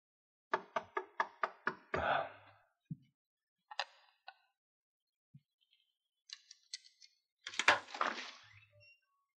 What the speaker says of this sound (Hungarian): Kopogj az ajtón.